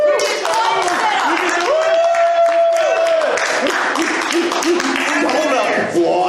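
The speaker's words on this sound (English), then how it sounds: "Don't applaud that." Audience applause and clapping fill a comedy open-mic stage, a dense steady wash of hands from a nearby crowd, with talk and laughter over it and a brief vocal tone near the middle.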